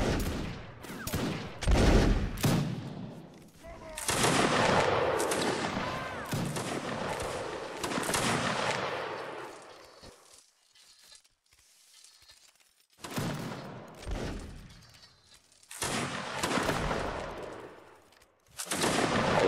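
Musket volleys in the Napoleonic Wars video game during a line battle: several loud, dense bursts of crackling gunfire from many firearms at once, with quieter gaps of sporadic shots between them and no talk.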